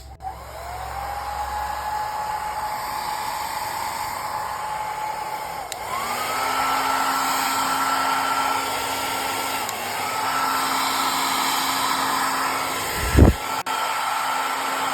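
A Philips HP8120 hair dryer blows with a steady, loud whirring hum close by, shifting pitch slightly as settings change, then a sharp click near the end as it is switched.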